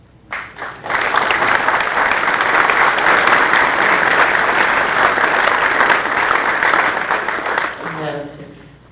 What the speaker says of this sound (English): it feels really good to be in these chambers and hear cheering and happiness